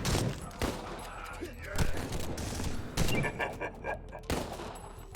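Gunfire in the MADNESS: Project Nexus video game: several close, sharp bursts of shots crack out over a rough background of game combat noise.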